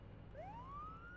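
A police car siren in a video game winds upward in a single rising wail, faint and brief against low background rumble.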